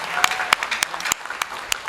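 Scattered applause at a nursing academy graduation ceremony in Medan, with a handful of separate sharp claps standing out over a faint room background, brief and sparse.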